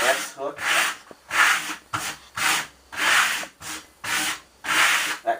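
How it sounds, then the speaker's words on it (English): A trowel spreads Marmorino plaster in artistic troweling with a small S-hook motion, giving repeated rhythmic scraping strokes, roughly eight close, even passes with short pauses between them. "I do a technique called artistic troweling."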